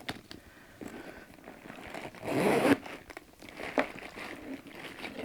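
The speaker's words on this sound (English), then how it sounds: "You can tell the zip hasn't been used much" A zipper on a little-used Proenza Schouler designer item is pulled, giving a rasping, crinkling zip of about a second, with lighter fabric rustles and handling noises before and after.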